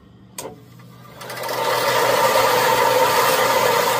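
Secondhand belt sander with a fine belt, bought cheaply, starting up after a brief knock and spinning up into a steady, loud whirring motor-and-belt drone that holds constant to the end, with no talking.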